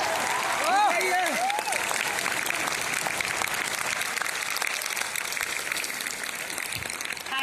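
Audience applause at a motivational speech event, loud sustained clapping from a crowd that runs through the whole stretch, with a few shouts and whistles rising over it early on.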